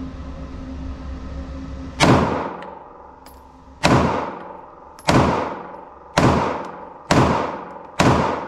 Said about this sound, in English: I'm gonna run a couple rounds through this CZPTNS.